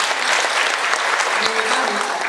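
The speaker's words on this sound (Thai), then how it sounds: "ถ้าดีช่วยปรบมือให้ท่านดร. ด้วยนะครับ" Seminar audience at a Thai temple farming workshop gives the doctor a round of applause, dense, steady clapping throughout with a few brief voices mixed in.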